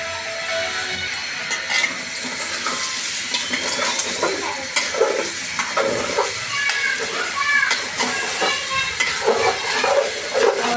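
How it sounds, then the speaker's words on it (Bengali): Rice grains tossed with salt and cinnamon in a hot pan give a steady, close sizzle, broken by repeated scraping strokes as the grains are stirred. "চাউলটা ভাজা ভাজা হয়ে গেছে।"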